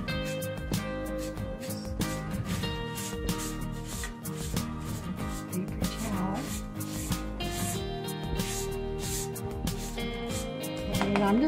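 Cinnamon being rubbed onto a DIY floral wall vase, a continuous loud scratchy friction with rhythmic strokes going round, close up and without speech.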